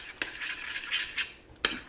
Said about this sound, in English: I'm just going to stick my spoon right in, like a heaping tablespoon